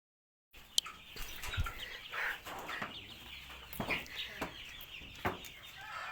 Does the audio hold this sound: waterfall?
no